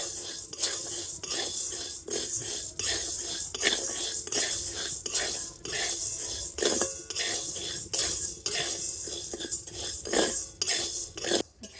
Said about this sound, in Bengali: আর এবার আমি সাবুদানাটাকে একটু ভেজে নেব